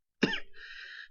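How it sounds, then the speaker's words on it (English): A single sharp cough rings out up close in a quiet room, trailing into a brief throat-clearing rasp before silence returns. "sorry, I'm coughing too."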